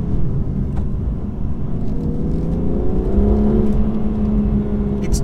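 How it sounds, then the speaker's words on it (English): A BMW M2 engine drones steadily up close, with a low rumbling intake roar, unmuffled by under-bonnet insulation, that swells and rises in pitch as it revs partway through. "The sound of the induction noise from the engine"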